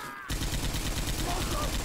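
Rapid gunfire in the co-op zombie shooter Left 4 Dead 2 during the Swamp Fever campaign. After a brief quiet moment, a dense, continuous string of loud, close shots fills the rest of the clip.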